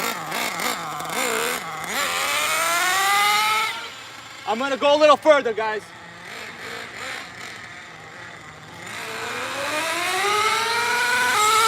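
A small nitro engine in an HPI Savage X 4.6 RC truck revs up and down in rising and falling whines, with a burst of rapid high-pitched revving midway as the two-speed shifts; someone speaks briefly over it.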